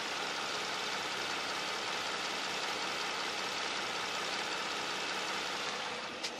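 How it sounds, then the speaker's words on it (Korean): Engine of a used Hyundai Genesis DH G330 Modern AWD sedan idling, a steady, even broadband hum with no revving or talk, quiet and smooth throughout. "바로 제가 엔진 소리 한번 들려드릴게요."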